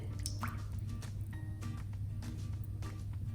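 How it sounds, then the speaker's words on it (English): Oil poured into a large bowl for an eggless vanilla custard cake batter, a soft continuous liquid trickle with small drips and squishy splashes over steady low kitchen hum, no talking. "in a large bowl we add oil"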